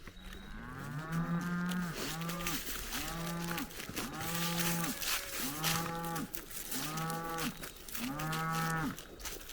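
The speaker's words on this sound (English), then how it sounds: "That's Betty making all the noise" A cow moos over and over, loud and close, each long low bellow rising and falling, about six calls in steady succession.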